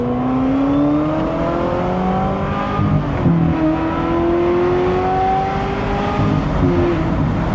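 A Ferrari 355 engine revs loud and close, its pitch climbing and dropping through repeated sweeps with a continuous throaty roar.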